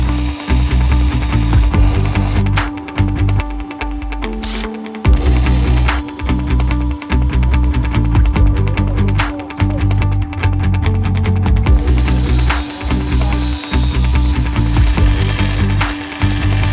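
Power tools cutting and grinding during a trail repair of a snapped steering arm on an off-road vehicle, loud and close. Rough buzzing bursts stop and restart irregularly, with a harsher high whine near the end.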